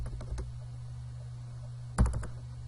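A name being typed on a computer keyboard, a few soft scattered keystrokes early on and then a quick cluster of louder clicks near the end, all close and quiet.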